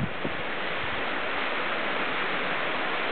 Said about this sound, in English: it's a beautiful waterfall that drops down